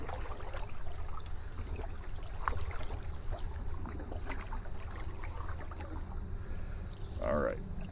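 Small boat on the water turning around, with gentle paddle strokes, trickling and lapping water close by and a faint voice in the background.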